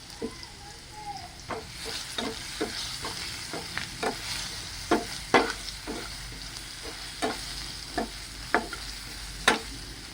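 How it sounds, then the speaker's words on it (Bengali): Cut potatoes frying in oil with salt and turmeric while a spatula stirs them in the pan. A steady close sizzle runs throughout, broken by about a dozen sharp scraping clinks at an uneven rhythm, with no talking. "এবার এটাকে একটু ভালো করে লাল করে ভেজে নিতে হবে।"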